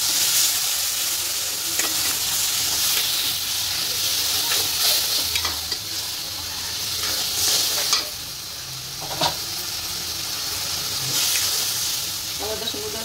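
Oyster mushroom masala with green chilies sizzles and hisses steadily in a pan after water is added, with occasional stirring scrapes and a faint voice in the background.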